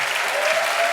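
An audience at a graduate recognition ceremony for a school of international affairs and urban policy applauds, a steady, full wash of clapping that holds at an even level across the whole short span.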